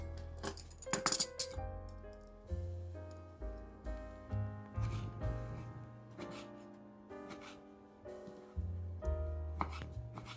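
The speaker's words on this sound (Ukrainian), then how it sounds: "Виймаю серединку у помідорів і нарізаю кубиком." A kitchen knife dices fresh tomatoes into cubes on a board for an eggplant salad, giving irregular soft knocks and taps, close up under background music.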